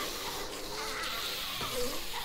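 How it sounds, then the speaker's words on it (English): Bees in the video game 7 Days to Die make a continuous, wavering insect buzz close by, rising and falling in pitch for a couple of seconds with no talk over it. "It's the bees that are waste because they take a lot of bullets."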